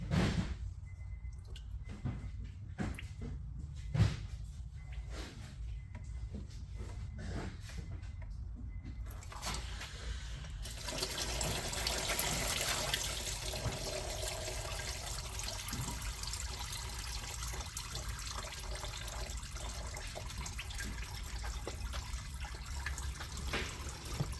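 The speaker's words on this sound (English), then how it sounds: "let me actually try to drain this oil pan a little bit more" Used engine oil drains from the oil pan of a 2020 Mercedes GLE 350 4MATIC W167, a steady liquid trickle and drip that runs continuously and thickens into a denser splashing flow partway through, with no voices.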